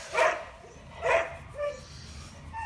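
A dog gives three short, separate vocal yelps or woofs at close range. The first two are the loudest, and there is little background noise between them.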